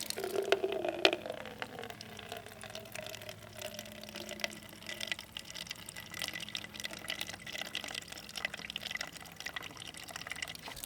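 Water from a ram pump's poly drive pipe runs steadily into a container, a continuous splashing trickle of moderate loudness heard alone with no talk.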